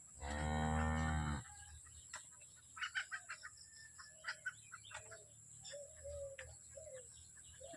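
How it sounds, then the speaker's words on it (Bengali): A big, tall, high-quality cow gives one loud, long moo close by, followed by scattered clucking from chickens around the farm. "এটা একটা গরু আর কি, অনেক বড়, অনেক উঁচা, অনেক জাতি গরু।"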